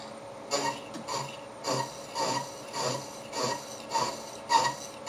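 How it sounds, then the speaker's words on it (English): A slitting saw run very slowly through aluminium, cutting it in half, giving a close, rhythmic rasping scrape that repeats about every half second in even strokes, with no voices. "I'm going to use a slitting saw to cut it in half."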